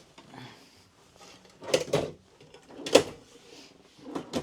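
Wooden storage drawers in a 36-foot Tiffin Allegro Red motorhome slide open and shut, giving two or three distinct knocking thuds amid quieter handling.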